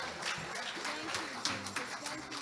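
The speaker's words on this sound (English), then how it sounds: "give him a hand clap of praise tonight." Congregation clapping hands in praise during a Sunday evening church service, a dense continuous patter of applause with a few sharper claps rising out of it, steady and moderately loud with no clear talk over it.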